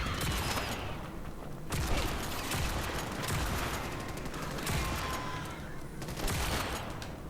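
Video game Starship Troopers Extermination: dense bursts of gunfire and grenade blasts come in repeated loud waves, separated by short quieter gaps, with no voices present.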